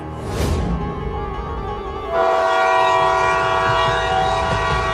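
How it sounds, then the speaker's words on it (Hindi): A train comes along the railway line with a loud horn sounding near the start. A heavy, steady rumble and a sustained tonal drone then build and hold close by until the end. "ट्रेन तो फिर से आने लगी"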